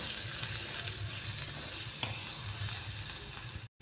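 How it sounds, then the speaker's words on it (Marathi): Crushed garlic frying in a pan gives a continuous, even sizzle with faint stirring touches, no speech, and a brief dropout just before the end. "हा लसूण घालूयात ठेचलेला, थोडा फ्राय करून घेऊ"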